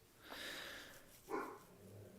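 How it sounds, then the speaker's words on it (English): A dog named Moose barks indoors, giving two short muffled barks that sound somewhat distant and quiet. "Moose, you can quit barking now."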